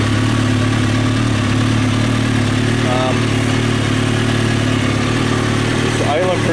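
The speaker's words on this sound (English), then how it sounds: "It's idling pretty good." A Kawasaki ZX-6R motorcycle with a slight oil leak idling close by, a loud, steady engine drone held throughout, with a person talking over it.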